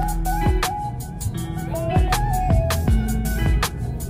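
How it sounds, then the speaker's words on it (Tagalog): Busy midday street traffic in the Philippines: engines idling and revving nearby with repeated horn toots and a sustained tonal honk, loud and close throughout with no talk. "Tanghaling tapat pero traffic na dito guys."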